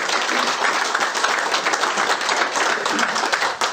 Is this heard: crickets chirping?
no